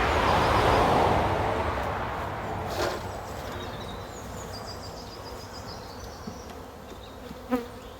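Honeybees swarm and drone around an opened hive during a colony split, a dense close buzzing that is loudest at the start and then settles into a steady hum, with occasional single bees zipping past.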